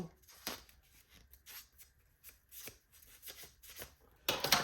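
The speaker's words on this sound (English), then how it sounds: "So let's get our scissors. I'm gonna cut these" Close, crisp snipping and rustling of scissors cutting through a thin transfer sheet, in short irregular strokes, ending with a louder crinkle.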